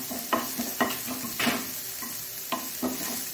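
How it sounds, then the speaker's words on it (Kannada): Onion and green chilli sautéing in a little oil in a pan, with a constant low sizzle and a spatula scraping and stirring in several distinct strokes, close and moderately loud. "ಸ್ವಲ್ಪ ಎಣ್ಣೆಯಲ್ಲಿ ನಾವು ಇದನ್ನು ಹೀಗೆ ಸಾಟೆ ಮಾಡ್ಕೊಳ್ಳೋಣ"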